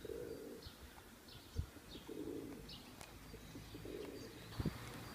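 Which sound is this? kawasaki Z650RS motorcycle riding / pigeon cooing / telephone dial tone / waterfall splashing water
pigeon cooing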